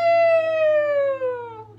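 A person vocally imitates a rooster's cock-a-doodle-doo in a children's music class, one long sustained sung call that slowly falls in pitch, close and clear.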